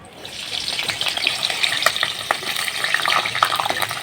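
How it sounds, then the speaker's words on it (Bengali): Potatoes fry in a pan of hot oil, a loud, close, continuous sizzle with crackling spits and occasional stirring scrapes, no voices. "এখন আলুটা ভেজে নেব"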